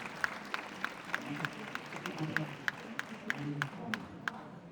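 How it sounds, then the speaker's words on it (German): Moderate applause from an audience after a book presentation, a steady run of claps with a few sharp standout hits and faint voices beneath, at a modest distance. "Wir haben jetzt die Möglichkeit, ja, erstmal für Applaus."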